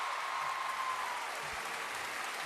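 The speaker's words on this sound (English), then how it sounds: "listening to the crowd here, listening to that home support" A home crowd at a men's floor exercise gymnastics event in Paris applauds and cheers in a loud, continuous wash of sound that fades slightly toward the end.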